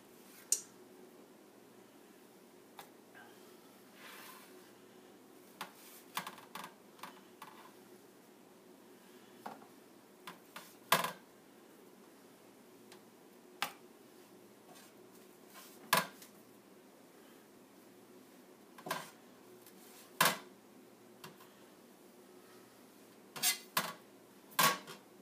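Biscuit dough being cut and the biscuits set on a baking pan, giving scattered sharp taps and clinks of the cutter and pan, with soft dull handling noises between them, close by over quiet room tone.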